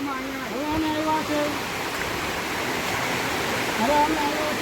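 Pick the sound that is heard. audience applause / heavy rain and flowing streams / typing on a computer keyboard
heavy rain and flowing streams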